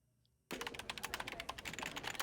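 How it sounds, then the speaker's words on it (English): Someone in a scene from Brooklyn Nine-Nine types fast on a computer keyboard: after half a second of near quiet, a rapid, continuous clatter of close keystrokes begins abruptly and runs to the end. "Damn, Jake is quick on those keys"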